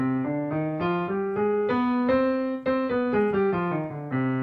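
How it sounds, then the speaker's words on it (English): Piano notes climb a C harmonic minor scale with a raised seventh step, then descend again, played smoothly at a steady tempo. "We also have the harmonic minor,"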